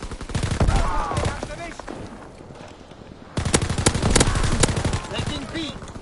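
Rapid automatic gunfire rattles in the World War II shooter game Call of Duty WWII, with dense, loud bursts, a brief lull, then another sustained volley, while a player's voice occasionally talks over it.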